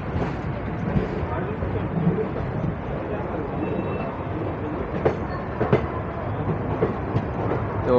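Saptagiri Express, train 16057, running from Chennai to Tirupati, heard from aboard as a steady rumble with rhythmic clickety-clack of wheels over rail joints and occasional sharper knocks.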